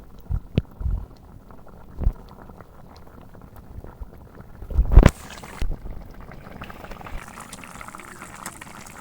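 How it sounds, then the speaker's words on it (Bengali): Fish curry broth with small shrimp simmering in a pot for a Bengali swarputi and ridge gourd curry, a low bubbling boil with a few louder clatters and splashes and no talking. "একদম ঝোল ফুটছে"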